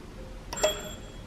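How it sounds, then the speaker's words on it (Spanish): A hotel room doorbell gives a single bright electronic ding, short and clear, ringing out briefly in a quiet room. "¿Este era un timbre?"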